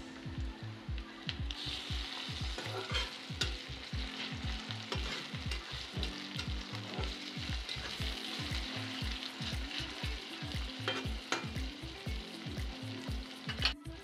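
Ingredients for egg fried rice sauté in a pan, a dense close sizzle pierced by rapid repeated spatula knocks and scrapes in an uneven rhythm, with no one talking.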